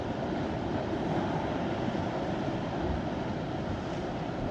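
Sea waves wash against the rocky coast at Sanpo-ri, Geunnam-myeon, Uljin, as a continuous, loud broadband roar mixed with wind, with no voices heard.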